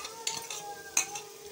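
Leftover egg goes into simmering egg gravy in a home kitchen, with soft stirring and sizzling under a few sharp clinks of a utensil against the pan.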